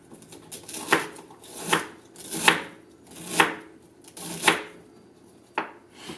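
Celery being chopped on a cutting board for a Bolognese pasta sauce: about six crisp, evenly spaced knife strikes, close and clear, with no talking.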